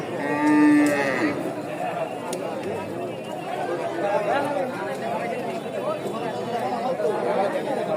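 A cow lets out a long, clear moo early on, over the steady chatter of a large crowd at a busy outdoor cattle market.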